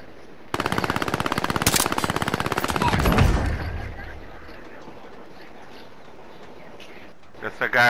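Rapid automatic gunfire from the Call of Duty: Modern Warfare video game rattles loudly in a steady stream for about three seconds, then cuts off and leaves a quiet background with a few faint clicks near the end.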